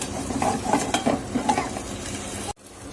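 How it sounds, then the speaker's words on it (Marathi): Green chillies roasting in a pan on a low flame for Solapur-style chilli bhaji, a close sizzle with repeated spatula scrapes and stirring, cut off abruptly before a fainter steady hiss. "आपल्या मिरच्या आहेत छान अशा भाजून घेणार आहे मंद गॅसवरच"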